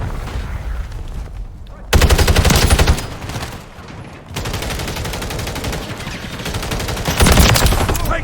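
Rapid automatic gunfire rattles in dense bursts during a Modern Warfare 3 match, loud and close, with brief lulls between volleys and a final heavy burst.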